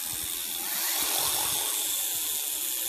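An electric hoist pulley motor being assembled runs at high speed, giving a steady, loud, close whine with a hissy, buzzing edge that holds without a break.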